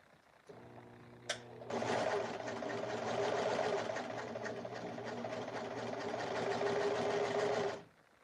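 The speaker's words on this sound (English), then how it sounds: "So I'm going to serge that and see how that goes." Serger stitching glitter prom dress fabric, a close, steady rapid mechanical whir running for about six seconds after a brief click and a soft low motor hum.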